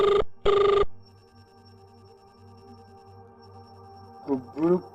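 Two short bursts of an electronic telephone ring sound up close, followed by a quiet hum and a brief vocal sound near the end.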